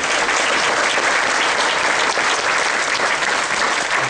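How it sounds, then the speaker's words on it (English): A conference audience applauds a panel on data center networking, a steady dense wash of clapping from many hands that holds evenly throughout. "Another round of applause for our panel"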